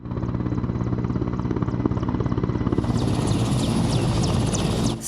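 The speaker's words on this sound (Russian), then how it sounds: "Строго в определенное время на землю приземляется вертолет Минобороны Республики." A Defence Ministry helicopter lands at a stadium, its loud, steady rotor thump and turbine whine continuous and close, the engine pitch rising partway through.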